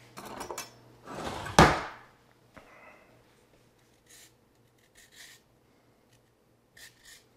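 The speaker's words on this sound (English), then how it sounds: "I am going to take a little bit of zest off the outside." Lime zested on a grater, a few quick scraping rasps close by, the loudest near the start, followed by quieter intermittent scratches and pauses.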